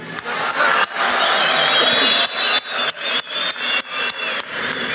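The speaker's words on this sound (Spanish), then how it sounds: "Clap." A live audience at a freestyle rap battle event claps and cheers for a performer, a dense, loud roar of crowd applause that sustains and swells, then breaks into choppier rhythmic bursts toward the end.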